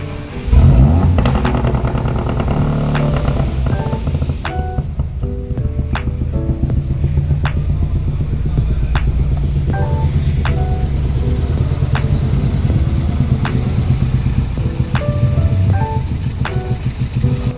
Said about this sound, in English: Go ahead and start our car up so you could hear what the misfire sounded like.